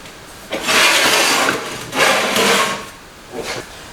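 A repair panel for a Ford Escort scuttle is set into a homemade angle-iron jig with welded bolts and clamped up. Three loud, rasping metal scrapes and rubs come close by, with no talk.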